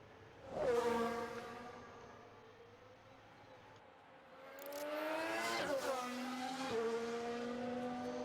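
An F1 car engine in F1 Manager 22 during Australian GP qualifying drones and rises in pitch, fading, then swelling again with higher revving passes before settling into a sustained whine.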